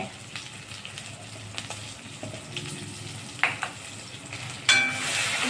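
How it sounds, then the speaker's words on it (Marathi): Spice masala for chole sautéing in oil, a soft continuous sizzle with occasional stirring scrapes and a louder clatter near the end, close and steady with no talking. "छान परतून घेणे आता आपलं तेल सुटत आहे"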